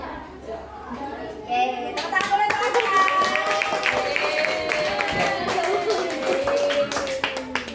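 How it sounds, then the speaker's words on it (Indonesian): Students clap their hands together in a classroom, a brisk burst of many hands starting around the two-second mark and continuing steadily, with children's voices and chatter mixed in throughout. "tepuk tangan dulu teman-teman"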